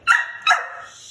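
Two sharp barks in quick succession from a dog nearby, loud and close with no talking.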